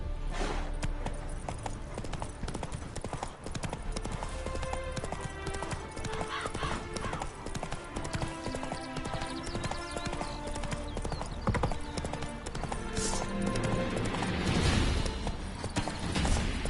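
The horse Roach from the video game The Witcher 3 gallops with rapid, continuous hoofbeats under a dense layer of game sound. Occasional whinnies and brief voices come through.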